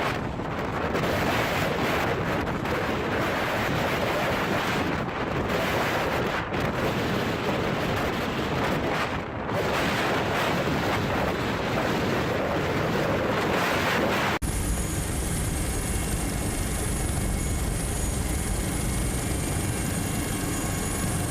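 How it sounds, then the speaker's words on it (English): Storm-driven waves crash around a large Dutch-flagged fishing vessel at sea, with strong wind roaring across the microphone. The noise is loud and continuous, then shifts abruptly to a different, thinner background partway through. "A large fishing vessel flying the flag of the Netherlands confidently passes the waves in a storm."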